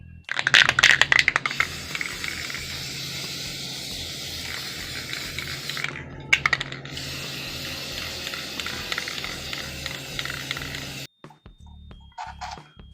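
An aerosol can of spray paint hisses in long, continuous bursts during a budget DIY decor project, broken by a brief pause and a few clicks and rattles, close to the mic with no talking.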